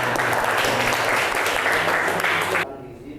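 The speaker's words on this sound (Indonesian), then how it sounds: "tepuk tangan." Dense crowd applause fills a classroom or lecture hall for about two and a half seconds, loud and steady, then cuts off abruptly to a quiet room.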